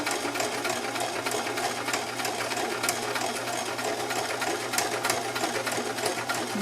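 A sewing machine runs slowly through a zigzag seam, its steady mechanical whir close and continuous with a faint rhythmic clatter of the needle throughout.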